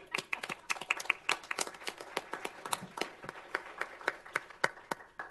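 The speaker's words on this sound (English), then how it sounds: "so we give you one more applause, huh?" People at a city council meeting give a round of applause, a light scattering of hand claps from a small group, fairly faint and uneven, with no talking over it.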